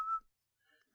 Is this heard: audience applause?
no